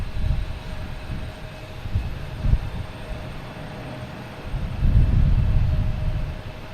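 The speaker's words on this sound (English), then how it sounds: "coming from Paris, an A350. They usually land on the longer runway" An Air France Airbus A350 from Paris lands at Boston Logan, a low, rumbling engine roar with gusty wind buffeting that swells near the end.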